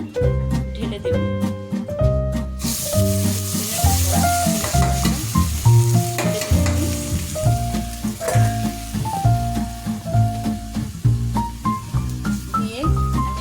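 Polao rice fries in hot oil in a pan, giving a bright, continuous sizzle with stirring scrapes. Tuneful background music with a steady beat plays loudly over the frying throughout.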